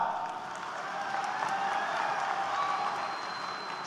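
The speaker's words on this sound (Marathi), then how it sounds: "आपल्या श्रीरामपूर नगरीमध्ये साहेबांचं स्वागत आपण सगळ्यांच्या वतीनं टाळ्या वाजवून करूया।" A large crowd at an outdoor Vanchit Bahujan Aghadi political rally in Shrirampur applauds in a broad, steady wash of clapping and crowd noise that continues evenly.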